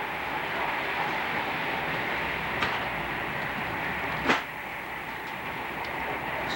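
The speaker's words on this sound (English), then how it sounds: "Train." A train passing on a railway line in England, heard as a steady, broad rumble that holds evenly throughout, with a couple of brief sharper clacks standing out near the end.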